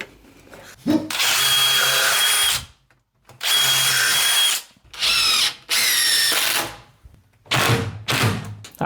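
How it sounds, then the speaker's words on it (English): Power drill driving screws through timber while building an under-stairs cupboard, several loud bursts of whirring with short pauses between them, close and without talk. "then I'll just screw straight through"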